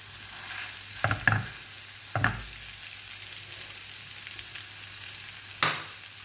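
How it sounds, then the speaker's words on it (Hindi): Mashed boiled potatoes are stirred into onion and cumin in a pan, with a few distinct scraping strokes against a faint background sizzle, otherwise quiet. "प्याज और जीरे के साथ इसको मिक्स कर लेंगे।"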